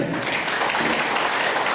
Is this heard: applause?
yes